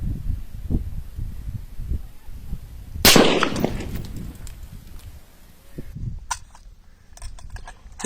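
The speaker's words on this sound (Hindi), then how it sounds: "तकरीबन 7 राउंड्स फायर किए हैं" An M4 rifle fires one crisp 5.56 NATO round toward a 150 m target. The sharp report stands out over a steady outdoor background, with birds calling faintly around it.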